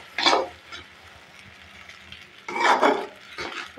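Noodles with egg cooking in a pan, with a quiet background sizzle and two short bursts of stirring and scraping.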